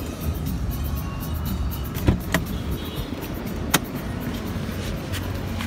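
Original 3.0-litre engine of a used automatic Toyota Camry idling smoothly, a steady low hum with a couple of faint clicks over it.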